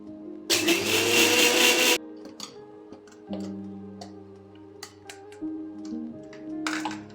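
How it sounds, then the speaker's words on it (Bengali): A mixer grinder coarsely grinds soaked ingredients for kesar firni in a home kitchen, one loud whirring burst of about a second and a half, then quieter clinks and taps with a low steady hum. "এরপর আমি মিক্সিতে একটু হালকা দরদরে করে পিষে নেব"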